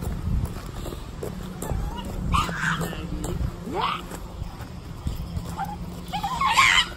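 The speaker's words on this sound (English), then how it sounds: "no barking" A dog at a lake gives a few scattered barks and yips, fairly distant and faint, over outdoor background noise and occasional voices.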